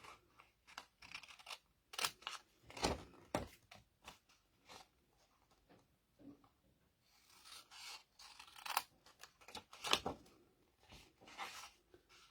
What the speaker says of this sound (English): Then I'm going to cut this diagonal one and cut this diagonal one.